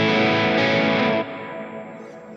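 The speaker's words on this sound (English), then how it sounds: "Let's go and check out the hall reverb." A sustained, distorted electric guitar chord through a Line 6 HX Stomp dynamic hall reverb rings out and decays into a long, spacious reverb tail.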